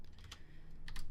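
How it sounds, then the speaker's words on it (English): Quick bursts of typing on a computer keyboard, a few soft clustered key clicks against a faint background hiss with no voice. "So I'll start typing slider1."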